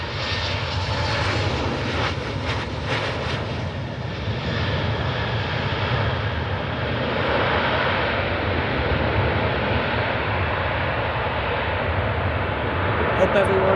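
A Southwest airliner inbound from Denver on approach to Cleveland Hopkins International Airport, its engines a loud, steady roar through the whole stretch, with wind-like broadband rush and a person talking now and then.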